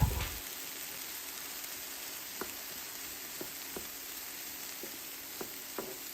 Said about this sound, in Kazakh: Тағы да 1-2 минуттай пиязбен бірге қуыратын боламыз.